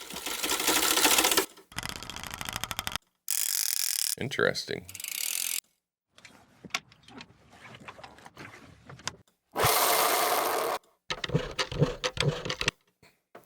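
Sound effects for a ship's wheel are previewed one after another: bursts of ratcheting, creaking wooden and mechanical clicks and turning noises, separated by abrupt silences, with a brief spoken remark partway through.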